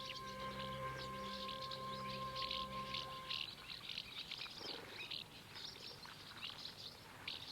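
African migrant birds call in quick, high chirping bursts near a lakeside café, faint and distant over a low steady hum, the chatter growing busier and more scattered in the second half.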